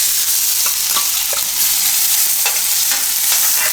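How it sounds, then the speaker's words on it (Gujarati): Grated fresh turmeric dropped into hot oil gives a loud, steady sizzle and spit, with occasional sharp stirring clicks and no talking. "તો તેલ આપણું ગરમ થઈ ગયું, તો એમાં આપણે પહેલાં નાખીશું આ હળદર, એટલે શેકાઈ જાય"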